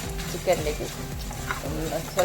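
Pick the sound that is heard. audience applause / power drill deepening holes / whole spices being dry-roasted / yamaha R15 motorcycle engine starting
whole spices being dry-roasted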